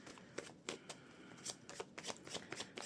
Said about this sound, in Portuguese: Vamos lá, embaralhar muito bem.